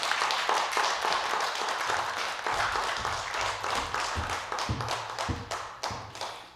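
A church congregation at a Sunday evening service claps together, a loud wash of applause that gradually gives way to a few distinct, sharper claps and thuds toward the end.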